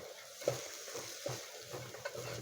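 Chopped tomatoes sautéing in a pan for mutton kulambu, a low soft sizzle broken by a few gentle stirring knocks, close by with no voices.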